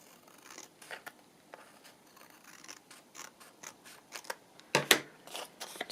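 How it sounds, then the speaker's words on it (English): Paper being trimmed for a patchwork Christmas journal: a run of close, crisp scissor snips and light rustling, getting louder toward the end with one sharp cutting burst. "Let's just trim this off a little bit down here."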